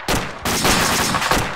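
Rapid gunfire from a vehicle's driver shooting back, a loud, close burst of shots with a short gap and then continued firing.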